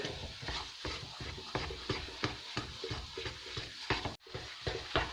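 Gram flour roasting in ghee in a pan, stirred in a regular rhythm of scraping strokes, roughly two per second, over a low sizzle and close by, with no talking.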